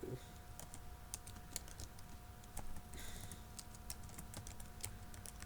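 Someone types an address on a computer keyboard in a quick, steady run of soft clicking keystrokes, close and quiet, with a faint hum underneath and no talk.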